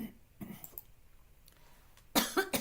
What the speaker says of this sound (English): Sorry, I just coughed in y'all's ear,